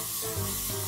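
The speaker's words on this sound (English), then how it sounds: "just spray it on the face" Hairspray is misted over a made-up face to set Halloween makeup, giving a close, steady aerosol hiss that runs unbroken for about a second.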